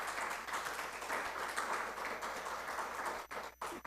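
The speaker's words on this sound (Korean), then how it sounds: "박수 좀 크게 다시 한번 해주시기 바랍니다" Congregation applause at a Sunday afternoon church service, a steady, fairly quiet wash of clapping that carries on evenly before thinning out near the end.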